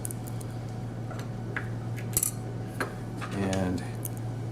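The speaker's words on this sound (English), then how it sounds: "put in my pan head screws with the washers" Small metal pan head screws and washers clink and rattle together as they are picked out and handled while a sliding door is installed, a few light metallic taps over a steady low hum.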